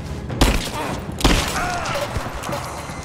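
Explosions in the video game Rise of the Tomb Raider land as two sharp, booming bursts about a second apart, followed by crackling debris and softer thuds.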